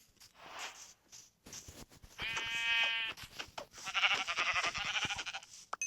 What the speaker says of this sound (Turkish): Şurada koyun vardı.